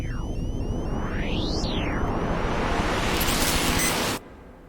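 Opening sound effect of the Doctor Who theme: a dense wash of synthesized noise with pitched whooshes sweeping down, up and down again, swelling brighter before cutting off abruptly near the end.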